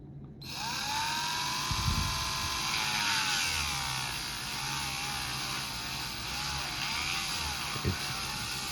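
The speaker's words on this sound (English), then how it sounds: "Next, I switched to this cone bit to smooth it out even more." A small rotary tool fitted with a cone bit whines at high speed, close and steady, as it lightly smooths plastic on a scratch-built model car, with brief grinding contact bursts.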